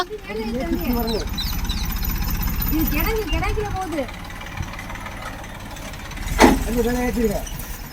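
A brick delivery truck's engine runs steadily while the truck sits stuck in soil, a low rumbling drone with a brief louder surge near the end, as voices talk over it throughout.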